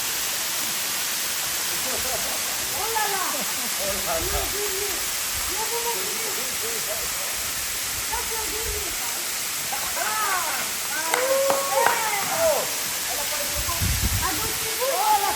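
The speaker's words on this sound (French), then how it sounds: "bienvenue à la cascade de AIVCE" The Afareaitu waterfall on a hiking trail gives off a constant broad rushing roar of water while people talk and exclaim over it throughout.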